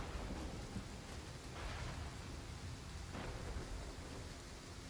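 Steady thunderstorm ambience from the battle game Total War Pharaoh, with a constant hiss of heavy rain and faint, diffuse rumbles of thunder swelling briefly twice, no voices.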